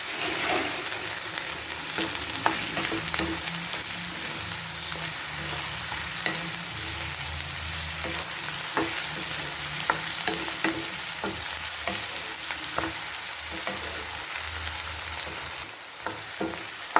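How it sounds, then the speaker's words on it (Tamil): Cut brinjal sautés in oil in a pan for a brinjal and peanut gravy, giving a steady, close sizzle punctuated by frequent sharp stirring clicks and scrapes, with no voices. "கத்திரியை நல்லா வதக்கிட்டோம்"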